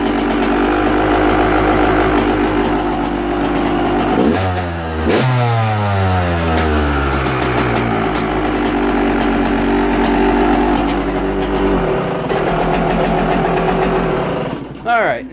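A small two-stroke engine with a bored cylinder runs loud and close, a buzzing idle that rises sharply into a revving whine and settles back, then revs again near the end.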